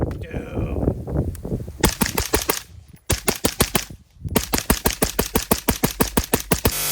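Geissele Super Duty 14.5-inch rifle with a Huxworks Flow 762 Ti suppressor firing outdoors, rapid strings of loud, sharp shots in quick regular bursts, a brief pause mid-string, with some talk at the start.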